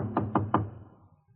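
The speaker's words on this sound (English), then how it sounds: "I was pounding on her door." Three quick, heavy knocks pound on a door in an even rhythm, close and loud. A short hollow ring dies away after them.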